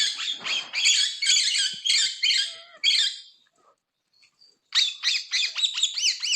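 Parrots at Kapilash Zoo in Dhenkanal give loud, repeated harsh squawks in rapid bursts. A short pause separates the bursts before the calling resumes, with no speech.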